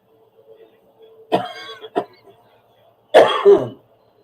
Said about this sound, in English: I've still got a nagging little cough, folks.